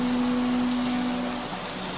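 Steady rain falling outdoors, a constant even hiss of drops with a faint low hum underneath and no voices.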